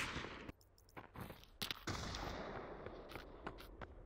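Video game gunfire crackles in loud, sharp bursts and repeated shots, some close and some farther off, over a steady background din.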